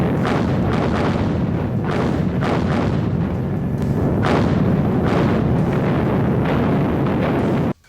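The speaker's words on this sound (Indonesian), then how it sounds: "mereka diserang dengan rentetan tembakan artileri Uni Soviet yang dahsyat" Soviet artillery barrage firing in a World War II battle, a rapid succession of heavy booms and blasts, loud and overlapping, some eight or more distinct thumps over a constant roar, with no voices.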